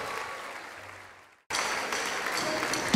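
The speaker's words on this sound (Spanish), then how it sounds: "Un fuerte aplauso, la bienvenida al Espíritu Santo." Congregation applause at a Spanish-language Christian worship service, a loud burst of many hands clapping that swells in after a brief hush, steady and dense near the end.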